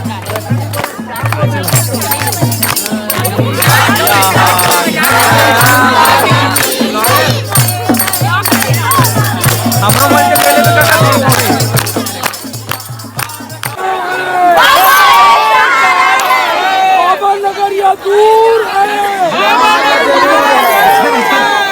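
Large crowd at a night Shiv Mahapuran katha gathering in an outdoor pandal at Baloda Bazar, a dense continuous babble of many voices with a steady low hum, loud and close throughout, with no single voice standing out.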